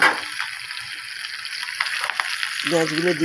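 Nigella seeds and sliced onions sizzling in hot oil for a Bengali begun bhujji, with a steady crackling fry broken by brief scraping stirs, close and fairly loud; a voice joins briefly near the end.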